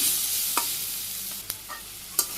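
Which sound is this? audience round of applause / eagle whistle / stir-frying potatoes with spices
stir-frying potatoes with spices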